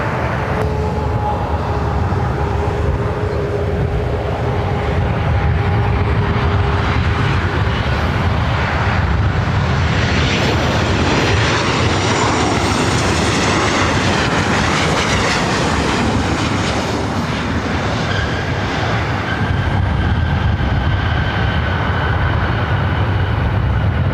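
Airliner landing on runway 24 Right at LAX, a loud, sustained jet engine roar that swells in the middle and stays strong, with some rumble underneath.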